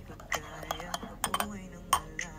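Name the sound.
stirring collagen powder into milk coffee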